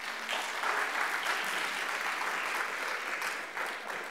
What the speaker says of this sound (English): You're being very generous with all of this applause.